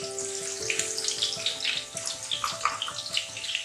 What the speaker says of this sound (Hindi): बाकी प्याज को हम धोएंगे अच्छी तरह